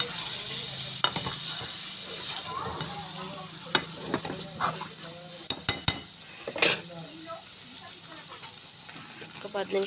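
Chicken nattukodi masala sizzles steadily in a pan while a utensil stirs and scrapes against the metal, giving irregular clinks and knocks over the constant frying hiss.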